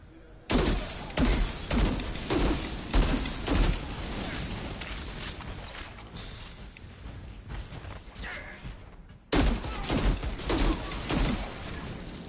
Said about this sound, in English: Let me use a sniper.